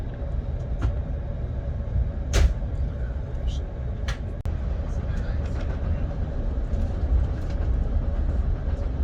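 A passenger train runs with a steady, broadband rumble and a faint sustained tone, with occasional brief clicks and knocks over the continuous noise.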